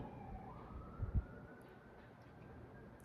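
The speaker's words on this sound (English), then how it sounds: "as the sirens go off in the background." A faint siren wails in the distance, a thin rising and falling tone over steady low background rumble.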